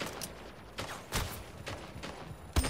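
Gunfire in the video game Splitgate, scattered bursts of shots at moderate distance, fairly faint and uneven, with a louder hit near the end.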